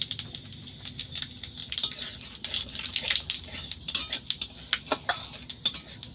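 Five-spice seeds (panch phoron) crackle in hot oil in a pan for shrimp and papaya sour curry, with sharp pops and clinks of a spoon against the pot over a steady low sizzle, no talking.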